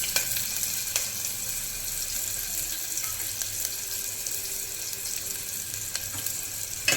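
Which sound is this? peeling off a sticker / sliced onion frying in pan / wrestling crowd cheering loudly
sliced onion frying in pan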